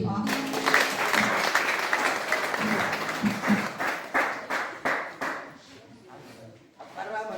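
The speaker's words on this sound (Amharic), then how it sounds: "አጨብጭቡ እስቲ" Congregation clapping together at a church service, a dense burst of applause that thins into scattered separate claps near the end, with voices mixed in underneath.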